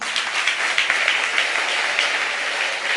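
A church congregation claps steadily and densely to acclaim the Lord, a continuous wash of many hands close by with no speech.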